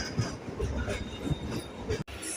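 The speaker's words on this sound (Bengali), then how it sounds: "এদিকে ট্রেন চড়ে মজা আছে ট্রেন যেমন ফাঁকা থাকে" Kolkata local train running between Majerhat and BBD Bag beside the river, a continuous rumble and clatter of wheels and carriage heard from inside, with a brief dropout near the end.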